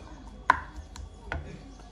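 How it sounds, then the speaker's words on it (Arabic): A knife chops onion and pepper thinly on a board, giving three sparse, crisp strikes spaced unevenly over a couple of seconds against a quiet kitchen background. "كنقطعهم رقاقين البصله الفلفله"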